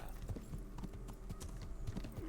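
Horse hooves in Kingdom Come: Deliverance, a strong, regular clip-clop of a ridden horse over a low steady background rumble, close up and clear, with no talk.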